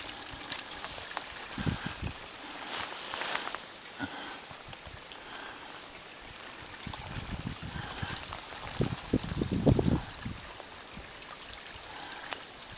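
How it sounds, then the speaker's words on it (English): A creek flows through a snowy canyon with a steady, soft gurgling rush, and a few louder splashing bursts rise near the end; no one speaks. "There's the creek."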